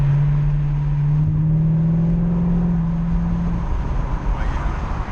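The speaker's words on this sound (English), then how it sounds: "I really hope you guys can hear how aggressive that LS3 sounds" The LS3 engine of a C7 Corvette drones loudly from inside the moving car, holding a strong low tone that fades after a few seconds into road and wind rumble.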